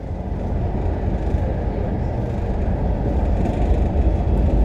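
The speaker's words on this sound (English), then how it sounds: "taking now the L9S train from Zona Universitaria to Terminal 2 to prepare my flight" Barcelona metro line L9 Sud train heading to the airport, a loud steady low rumble of wheels and motors heard from inside the carriage, continuous with no talking.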